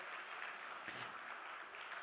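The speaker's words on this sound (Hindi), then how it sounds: "आप जोरदार तालियों से उनका स्वागत करें।" A concert audience claps steadily to welcome a musician onstage for an Indian classical recital at a Virasat festival, a dense, even wash of applause heard from some distance with no voices.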